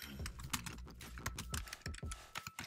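Someone types a search on a Mac computer keyboard, with a quick run of close, crisp keystrokes clicking in uneven bursts, and no voices.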